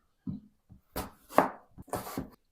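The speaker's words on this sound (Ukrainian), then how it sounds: "Тепер яблука наріжу скибочками." Apples are sliced into pieces with a knife on a cutting board: about five quiet, distinct cuts and taps, close and irregularly spaced, with silence between them.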